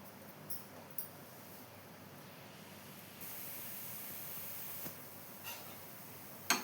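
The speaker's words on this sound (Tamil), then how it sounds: "நான் லைட்டாக தாங்க ஆயில் சேர்த்து இதை வந்து சுட்டு எடுக்க போகிறேன்" Kothumai polli, a sweet wheat flatbread, frying in a pan with a little oil gives a soft, steady sizzle that grows slightly louder midway, with a few faint ticks scattered through it.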